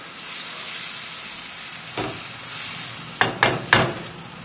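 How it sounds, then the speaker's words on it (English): Turkey curry with stock and milk simmering in a hot pan: a soft continuous sizzle and bubbling, then a few quick spoon scrapes and knocks near the end, no voices. "we just want to stir this around and bring it back up to the boil"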